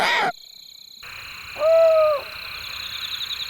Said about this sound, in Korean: 둥지 안에 있던 암컷이 화답한다.